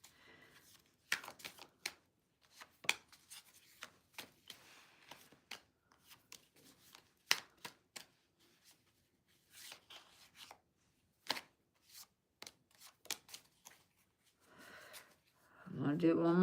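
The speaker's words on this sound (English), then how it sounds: "I'm gonna do one more shuffle." A deck of cards is shuffled by hand during a live stream, giving scattered quick riffling clicks and snaps in bursts across the stretch, fairly close, with a low murmur at the very end.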